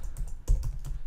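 A quick burst of keystrokes on a computer keyboard as a web address is entered into a browser's search bar, several close, crisp taps in a steady run with no voice over them.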